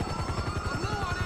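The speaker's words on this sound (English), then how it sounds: "There's a helicopter." A helicopter in the video game GTA V, its rotor beating in a fast, even, pulsing thump that stays steady and fairly close across the short moment.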